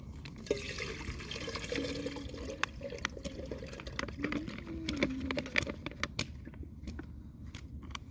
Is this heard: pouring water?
yes